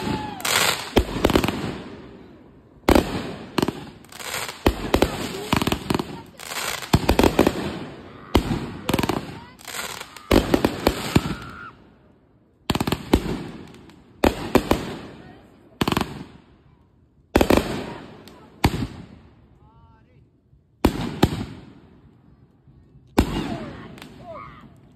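A backyard fireworks show with repeated loud, crackling bursts and rapid popping volleys, coming in clusters separated by short pauses, up close and dominating the scene.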